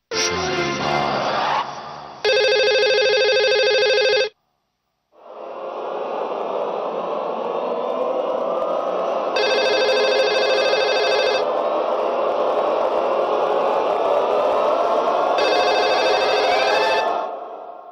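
A telephone rings in repeated electronic bursts, loud and close, separated by a brief silence and a hissy static hum between rings.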